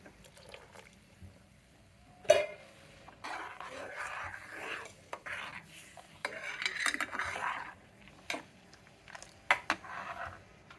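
A spoon clinks and scrapes against a pot while gram flour and yogurt batter is stirred, giving intermittent knocks and soft swishing, close and moderately quiet with no talk.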